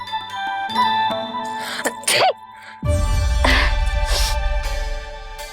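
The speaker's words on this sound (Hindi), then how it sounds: "अभी छींक आई ना," A sneeze sounds amid a devotional animated Krishna scene, standing out as a sharp burst over a backdrop of tinkling, chiming music.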